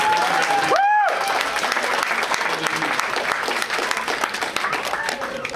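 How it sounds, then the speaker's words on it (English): A church congregation breaks into loud, sustained applause that fills the space, with a brief rising tone near the start and faint voices underneath. "give the Lord a hand clap of praise."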